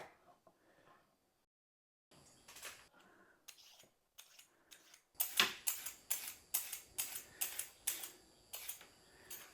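A knife cuts the ends off carrots, giving a series of crisp, close chops that speed into a steady rhythmic run of knocks after a few sparse cuts.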